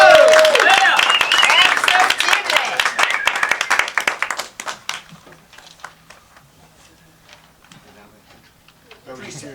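Loud audience clapping at an evening stage performance rings out, then thins to scattered claps and fades over several seconds, with a voice talking faintly as the applause dies down.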